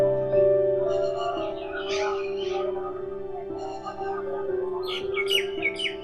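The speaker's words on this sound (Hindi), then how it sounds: "आपको ये पंछियों की चहचहाट भी सुनाई दे" Birds chirp and tweet in short bursts in the early morning at a temple and ashram site, over a steady hum, with a person speaking quietly in the background.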